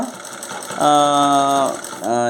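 Sewing machine stitching the back pocket of men's trousers, a close, loud motor hum in two runs separated by a short pause, with a quieter mechanical rattle before the first run.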